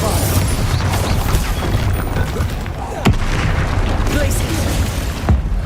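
Bombarda explosion spell cast in a Harry Potter video game: a dense, loud wash of magical noise broken by two sharp bursts, one near the middle and another near the end, over a busy background.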